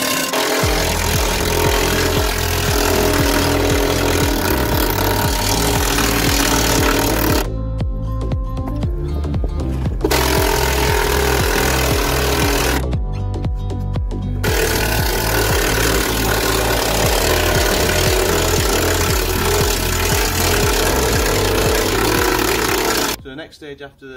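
A needle gun strips a Land Rover Defender chassis, a loud continuous rapid hammering chatter broken by two short pauses before a final stop.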